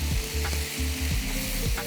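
Ginger and garlic sizzle steadily in hot oil while frying as the base of an Assam-style pork curry, with bursts of stirring rising and falling over a constant hiss.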